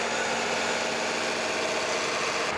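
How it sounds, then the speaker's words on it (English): Tractors rolling past in a small-town festival parade in Darwin, Minnesota, a steady, loud engine rumble and drone that fills the whole stretch without break, no voices. "A couple more tractors coming through."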